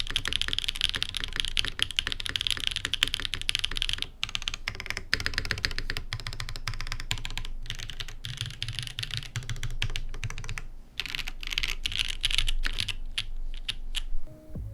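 Steady, fast typing on a Vertex Intro S100 full-size keyboard with its internal foam removed, sitting directly on a thick walnut wood desk without a mat; dense, close clacking keystrokes with a slightly hollow tone and a few brief pauses.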